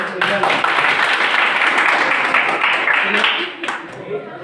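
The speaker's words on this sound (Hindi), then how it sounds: "तो इनके लिए एक बार और जोरदार ताली" A crowd gives loud, sustained applause for students after a quiz competition, dense overlapping clapping that holds steady for several seconds, then thins out near the end, with voices mixed in.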